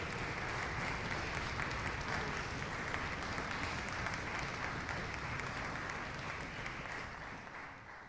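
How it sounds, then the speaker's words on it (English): An audience at a single reed symposium concert applauds, a dense, steady wash of clapping that holds evenly for several seconds before starting to taper off near the end, with no voices over it. "How about another round of applause for my colleague, Professor Ryan Kauffman?"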